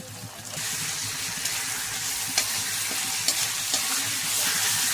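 Ginger and garlic paste go into browned onions for a beef dish and fry with a loud, continuous sizzling hiss. A few soft stirring knocks come through, and nobody speaks.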